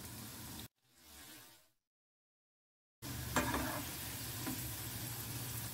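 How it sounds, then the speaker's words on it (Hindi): Lauki lachha pakoras deep-frying in hot oil give a steady, close sizzle with bubbling and occasional stirring, broken by a stretch of near silence before the frying resumes. "सबको इसी तरह से पलट पलट करके फ्राई कर लेंगे"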